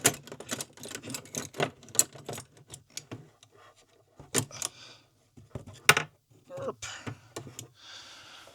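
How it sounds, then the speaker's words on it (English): Typewriter being moved and set down on a workbench among tools, giving a series of sharp clacks, knocks and rattles in uneven bursts with short pauses, close and fairly loud. "So tools over there, typewriter over here."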